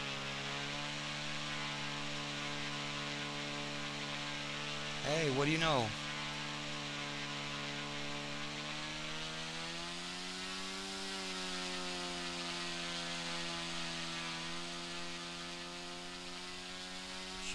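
Small Phoenix RC model airplane's motor holding a steady, even drone while hovering, close and constant throughout, with a brief voice cutting in partway.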